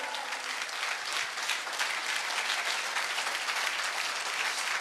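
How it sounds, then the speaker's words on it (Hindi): An audience applauds for an honoured guest at a Hindi-speaking gathering. Dense, steady clapping fills the whole stretch without pause. "जोरदार ताली होनी चाहिए सर के लिए"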